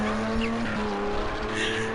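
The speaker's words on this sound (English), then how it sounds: "That's an impressive drift." Tires squeal in a long, steady screech as a car drifts in a racing video game, with engine drone underneath throughout and no break in the sound.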